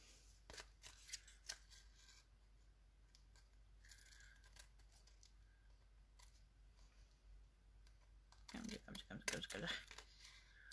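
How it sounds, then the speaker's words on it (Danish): Scissors cutting paper for a Distress Collage Medium piece, heard as soft snips and crisp rustling. The sounds are faint and intermittent, grow busier near the end and sit under a quiet room tone. "Jeg klipper lige det her af."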